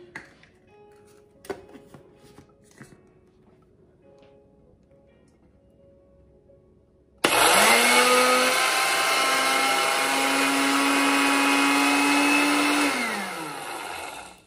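A blender grinds oatmeal into flour, starting abruptly after quiet clattering and running loud and steady for several seconds before winding down; no one speaks.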